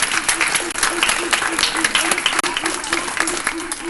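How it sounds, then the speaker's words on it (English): Audience applause at a live Smithsonian event with a NASA astronaut, steady dense clapping from a crowd filling the room for several seconds, fairly even in loudness. "Give yourself a round of applause."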